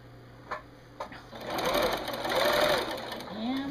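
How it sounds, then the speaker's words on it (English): A sewing machine runs in a steady whirring burst as it back stitches over bias binding, after a couple of short clicks, with the machine close and fairly loud. "I'm going to back stitch it so it don't come out."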